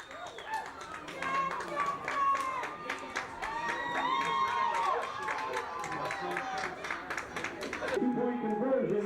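A high school football crowd cheers and claps after a touchdown, steady broad roar and scattered applause continuing throughout, with a commentator's voice talking over the noise.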